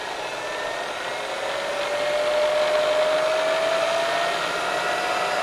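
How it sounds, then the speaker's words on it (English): Bridgeport CNC vertical milling machine with its spindle turning at very low RPM, a close, steady mechanical whir with a faint rising whine that holds for a few seconds. "That's about as low as RPM you can get."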